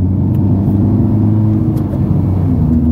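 A Honda Civic Type R engine running rough idles loudly up close with a low, uneven rumble and slight sputtering.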